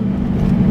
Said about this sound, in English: Let's see if this guy can hear the supercharger.